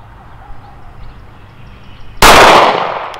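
A Glock 30 SF pistol fires a single loud, sharp shot on an outdoor shooting range, after a few seconds of quiet background, with the report ringing out and decaying over the next second.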